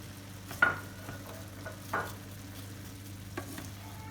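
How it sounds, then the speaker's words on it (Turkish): A quiet, steady sizzle of julienned onions frying in a pan over cooked meat, with a few soft scrapes of stirring now and then. "güzelce pişirdikten sonra üzerine jülyen doğranmış soğanlarımı ekliyorum"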